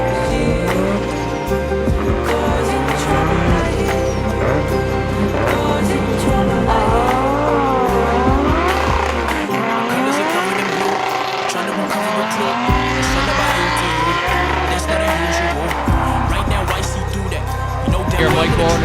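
Drift cars at an Irish Drift Series round push overstressed engines hard, their revs rising and falling in long sweeps over continuous loud tire squeal, with a commentator talking throughout.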